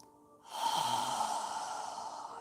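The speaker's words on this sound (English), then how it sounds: "As you inhale, allow your abdomen to expand, and when you exhale, allow your navel to contract toward your spine." Deep breathing during a yoga session, a long, steady breath starting after a brief near-silence and holding on close and fairly loud for about two seconds, with no talk.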